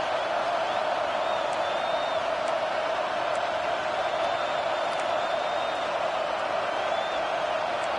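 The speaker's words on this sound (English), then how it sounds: "This crowd busting the decibel meter and trying to will a 4th down stop" Roaring football stadium crowd cheering and whooping loudly, urging the defense toward a 4th down stop; a dense, sustained wall of noise from a distance, with a faint whistle-like tone drifting through.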